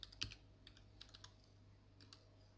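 Keys clatter on a computer keyboard as an administrator password goes in: a few quiet, scattered clicks and taps close by with pauses between, over a low steady hum and no talk.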